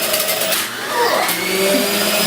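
A loud electric juicer runs continuously as carrots are fed through it, its motor whine wavering with the load.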